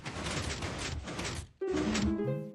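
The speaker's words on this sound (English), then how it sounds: "Door opens." A 3x2x1 piston door in a video game works with a loud, close burst of broadband mechanical rushing, then a brief gap and a sharp new clunking onset with ringing tonal layers.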